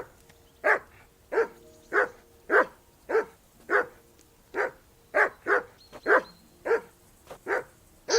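A dog in Kingdom Come: Deliverance II barks steadily, about a dozen evenly spaced, fairly close barks with no talking over them.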